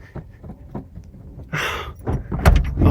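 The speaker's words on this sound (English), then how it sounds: "This door doesn't open and close that well." A muddy, stiff door on a junkyard 1984 Oldsmobile Cutlass Supreme is worked open with a few clunks and a scraping creak, followed by a louder thump near the end.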